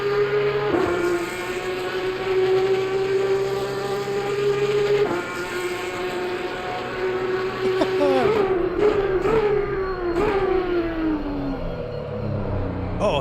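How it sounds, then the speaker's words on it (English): Race car engine in Assetto Corsa Competizione at the Nürburgring GP, a loud sustained tone holding steady, then rising and falling through gear changes and braking near the end, with no talk over it. "Listen to this engine, boys."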